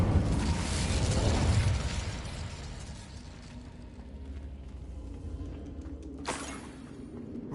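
Incendio fire spell erupting in Hogwarts Legacy on PS5: a loud whooshing burst of flame that fades into a lingering rumble, followed by a sharp crackling flare near the end, with no speech.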